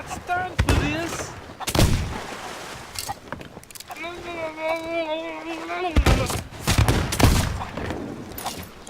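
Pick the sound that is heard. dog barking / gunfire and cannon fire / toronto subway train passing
gunfire and cannon fire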